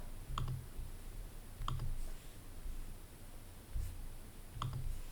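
Four sharp computer mouse clicks at a desk, spaced a second or more apart, each with a faint low thump over a quiet room hum while someone works in the Argo CD web interface.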